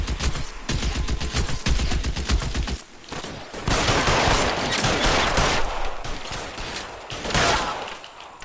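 Rapid, sustained gunfire from a police shootout in the detective game L.A. Noire: close, loud bursts of automatic shots, a brief pause, then more volleys.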